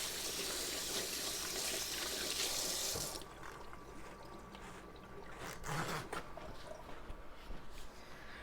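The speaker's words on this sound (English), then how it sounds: "now let's wash our paws off." A kitchen tap runs at the sink while hands are washed during artichoke cooking; a loud, steady stream pours for about three seconds, then cuts off, leaving quieter splashes and handling sounds nearby.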